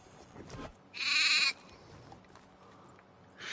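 Sheep on a farm in the game Medieval Dynasty give a short bleat, then a second bleat begins at the very end, both fairly close, with quiet ambience between them.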